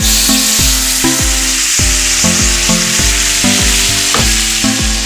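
Prawns and potatoes sauté in oil with a loud, steady sizzle that runs without a break, and background music with regular tones plays over it.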